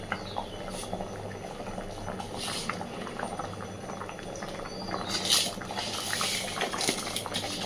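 Mung dal lentils simmering in a pot for masala khichuri, a steady close bubbling and gentle popping of liquid throughout, with faint clinks near the end and no voices.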